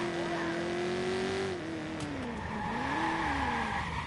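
Video game car engine humming with a steady tone that dips and rises as it revs, over a constant background wash of in-game road and traffic noise.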